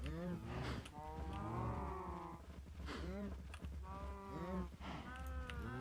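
Cattle in a Minecraft pen, several cows lowing in overlapping moos over a steady game hum, with a voice occasionally talking in between.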